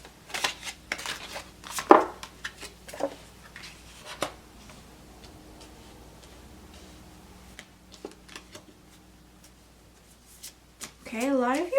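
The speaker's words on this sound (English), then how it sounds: "Just gonna do a shuffle here." Tarot cards riffled and shuffled in several short bursts, with soft tapping and handling noises in between, close and fairly quiet.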